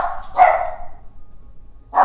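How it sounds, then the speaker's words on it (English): Dogs barking at a doorbell indoors, two sharp barks close by with a short pause between them. "My dogs, the doorbell rang, so of course they have to tell the whole neighborhood."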